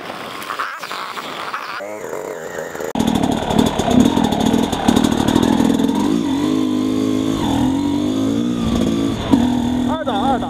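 A motorcycle fitted with a Lectron Billetron Pro 38 carburetor revs and accelerates hard in second gear without the clutch, its loud engine note rising and falling over steady wind noise, with brief voice sounds near the start.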